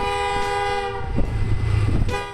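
A train on a railway, one of the cars of Pakistan's Millet Express, rolls past with loud, steady rumble and a sustained horn tone ringing above it, the rumble surging near the end.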